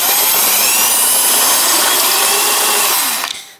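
A power drill bores into an older steel bike frame lubricated with a little oil, giving a loud, steady whining grind for about three seconds before it abruptly stops.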